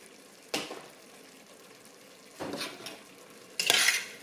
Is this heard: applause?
no